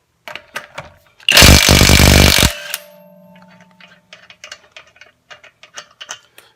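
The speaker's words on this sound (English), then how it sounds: "Let's take some lugs off of here and see how they perform." A pneumatic impact wrench with a 21 mm impact socket hammers off a lug nut in one loud, rapid rattling burst of about a second, preceded and followed by quieter clicks and handling noises.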